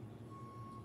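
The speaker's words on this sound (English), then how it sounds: "I'm sorry about that beeping noise." A steady electronic beep like a vehicle reversing alarm sounds faintly in the distance under low rumbling background noise, continuous through the short stretch.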